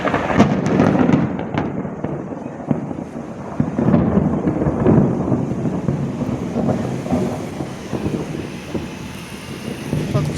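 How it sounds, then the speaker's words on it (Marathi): Thunder rolls and rumbles continuously through a rainstorm, loud and close with swelling low booms, rain and wind noise filling the background; no talk. "विजा गडगडतायत."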